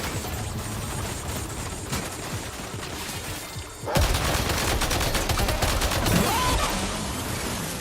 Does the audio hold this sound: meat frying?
no